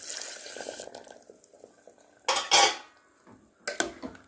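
Jaggery being stirred into mung dal and sago payasam in a metal pot, with a spoon scraping and clinking against the sides in a few short bursts, including two louder knocks, between quieter stretches.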